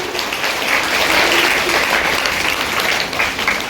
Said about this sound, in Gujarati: આપણે તાળીઓ પાડીશું.